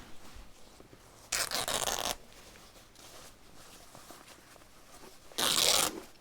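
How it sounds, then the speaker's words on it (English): Two short bursts of fabric being torn into strips by hand after a scissor snip, each a rough ripping sound lasting under a second, separated by a quiet pause. "I just make a snip with my fabric scissors, and then I tear"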